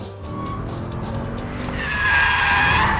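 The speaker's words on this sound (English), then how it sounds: "I'm going to go in and initiate a slide in second gear." A car drifting in a second-gear slide, with engine drone building into a loud, sustained tire squeal over the last second or so.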